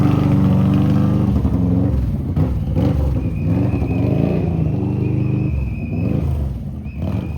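Indian motorcycle ridden by Australian Isle of Man racer Davo Johnson at the Adelaide Motorsport Festival, a loud, close, rumbling engine with uneven throttle surges and a steady low drone throughout.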